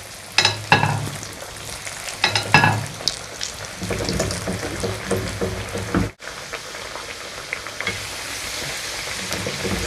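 Homemade hand-shaped chicken nuggets deep fry in oil with a busy, crackling sizzle, punctuated by loud clatters and scraping of utensils early on, then a brief break before the frying continues steadily.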